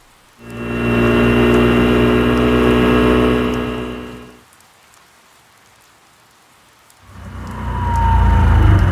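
A buzzing scooter engine in the video game Persona 4 Golden revs up and holds for a few seconds, cuts out briefly, then revs again, loud and near.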